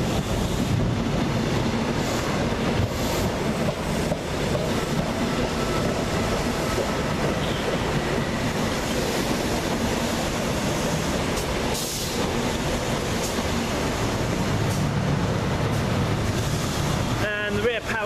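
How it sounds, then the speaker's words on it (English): A passenger train led by locomotive 43092 rumbles steadily in from a distance and rolls past into a station with a continuous low roar, ending in a brief metallic squeal. "Here it is, the 1823 First Great Western service to Boston Morgan Street"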